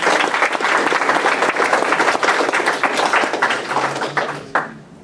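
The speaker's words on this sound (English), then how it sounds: "everybody give a round of applause." Steady, loud applause from a club meeting audience in a room, sustained dense clapping throughout with a sharp final clap near the end.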